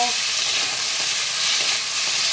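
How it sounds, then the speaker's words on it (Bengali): Vegetables with cashews and black and green raisins frying in a pan for vegetarian fried rice, giving a steady, close hiss of sizzling oil with light stirring throughout and no talk. "এবার এগুলোকে আমি ভালো করে একটু ভেজে নেব।"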